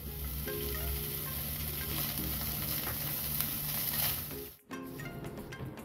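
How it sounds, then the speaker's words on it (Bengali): Mawa (khoya) stirred in ghee in a frying pan, a close, steady sizzle with scraping stirs, cutting off briefly near the end before resuming. "এবার 1/2 চামচ ঘি দিয়ে মাওয়াটা বা খোয়া ক্ষীরটা নেড়ে নেব।"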